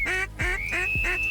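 A duck quacks in loud, close, rasping calls, three in quick succession during a waterfowl hunt in the wind, with no talk over it.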